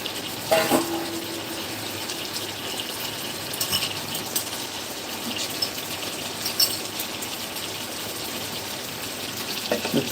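Water pours into a pan of hilsa fish cooking in mustard sauce, a steady hissing rush close by with a few clinks at the start and end and no speech.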